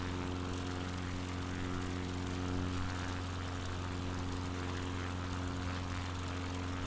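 Steady propeller-plane engine drone in cruise flight from Microsoft Flight Simulator 2020, a continuous even hum with strong low tonal bands and broadband roar, constant loudness with no talk over it.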